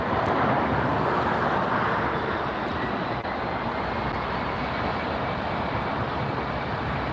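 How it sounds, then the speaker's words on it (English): A Hawaiian Airlines Airbus A330-200 arriving from Honolulu at LAX produces a steady, distant engine rumble mixed with broad background roar, fairly even in level throughout, with no voices. "Hawaiian Airlines Flight 10, an Airbus 330-200 series"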